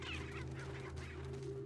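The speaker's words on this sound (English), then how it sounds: "sometimes if you scare the chickens, it will lay an egg." Fowl squawking and honking from chickens in the video game Resident Evil 4, a steady, fairly loud run of clucks over a constant low hum, with no talk.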